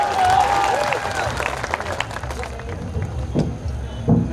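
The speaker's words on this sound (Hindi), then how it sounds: "तालियों की गड़गड़ाहट से उनका स्वागत, अभिनंदन।" Crowd applause fills a hall at a tribal unity conference, dense clapping that is loud at first and gradually thins out, with a brief swell near the end.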